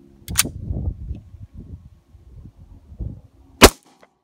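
Two sharp pistol shots from a Sig P320 fired outdoors in the desert, one at the start and one near the end, loud and close, with a low rustle between them.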